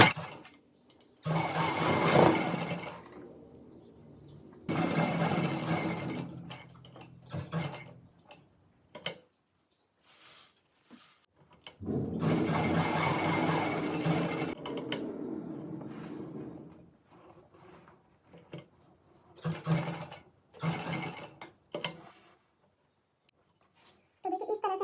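A sewing machine stitches a ready-to-wear belt saree, starting from a pleat, in several loud bursts of running with brief pauses and quiet gaps between them.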